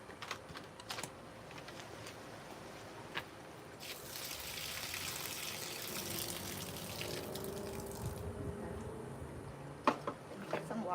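Tap water runs to rinse freshly harvested jubilee fruit, a steady hissing gush that starts after a few seconds and lasts several seconds amid clicks and handling noises.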